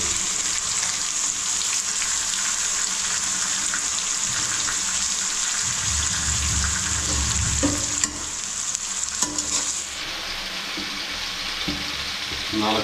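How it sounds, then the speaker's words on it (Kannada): Ginger garlic paste hits a hot pan and fries with a loud, steady sizzle that stays close and continuous, briefly disturbed by stirring partway through, for a village-style chicken green masala. "ಇವಾಗ ಇದಕ್ಕೆ ನಾವು ಶುಂಠಿ ಬೆಳ್ಳುಳ್ಳಿ ಪೇಸ್ಟ್ ಹಾಕ್ತಿದ್ದೀವಿ ನೋಡಿ"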